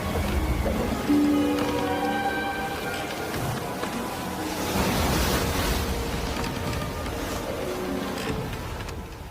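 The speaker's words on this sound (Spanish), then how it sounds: "el mar estaba agitado porque soplaba un fuerte viento" Rough sea churned by a strong wind, heard as a steady, dense roar of surging water and gusts that swells and eases without pause, set in a dramatized Gospel of John scene on a lake.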